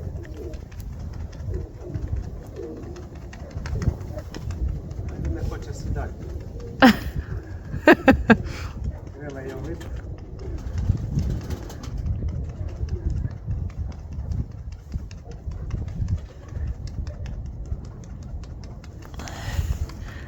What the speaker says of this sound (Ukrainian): Оце голуб класний.